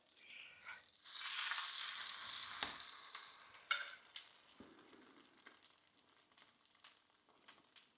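Custardy bread dipped in a spiced egg mixture hits a pan of melted fat, setting off a loud, bright sizzle that stays steady for several seconds before easing to a softer crackle, with a few scraping clicks.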